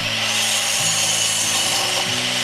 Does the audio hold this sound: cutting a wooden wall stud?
yes